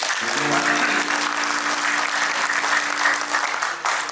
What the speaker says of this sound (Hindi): पहले मुखड़े से ताली बजा दीजिएगा मुझे